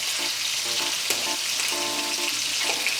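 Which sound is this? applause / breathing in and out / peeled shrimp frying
peeled shrimp frying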